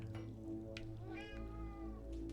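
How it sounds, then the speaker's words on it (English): Cat meowing during a video game session, a clear, close, drawn-out meow with rising and falling pitch over a steady background hum. "Oh, meow, meow, meow, meow, meow, meow, meow."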